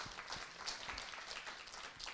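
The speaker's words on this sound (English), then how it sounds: "let's give them a round of applause." Steady, fairly faint applause from a forum audience for a panel, an even wash of clapping that continues throughout with no talk over it.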